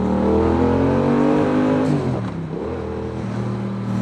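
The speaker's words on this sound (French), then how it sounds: "tu entends le pot là, qui pète à chaque fois que je passe une vitesse" Loud engine drone of a 2019 Yamaha XSR 700 motorcycle under acceleration, the pitch climbing then dropping sharply at a gear change, the exhaust popping on shifts, before building again, recorded close up.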